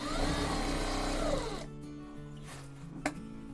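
A sewing machine stitches a blouse shape belt, running in a steady close-up whir for about a second and a half before stopping. Quieter mechanical clicks and a brief knock follow.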